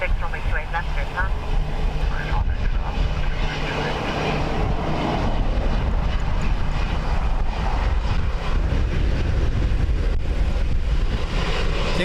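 A jet airliner arrives at Dublin Airport in strong, gusty wind: a loud, continuous engine roar with rumbling low noise and buffeting wind throughout, with voices talking over it.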